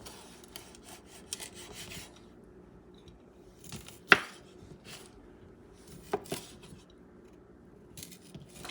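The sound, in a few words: knife chopping sausage into small pieces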